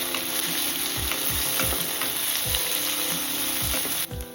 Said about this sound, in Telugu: ఆలు ముక్కలు 1 అరకప్పు వేసి కొంచెం వేయించుకోవాలి